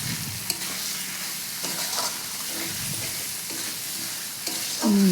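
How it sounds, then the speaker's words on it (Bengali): Spice masala stirred and sautéed in a pan for fish roe dopiaza, a steady close sizzle with scraping spoon strokes throughout, no talk. "খুব ভালো করে মশলাটা কষিয়ে নিচ্ছি"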